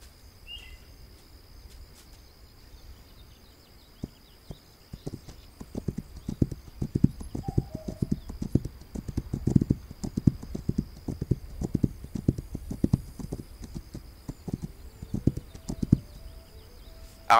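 Horse hooves clip-clop in the video game This Land is My Land, a steady galloping rhythm that starts after a quiet moment and grows louder, with faint bird calls behind.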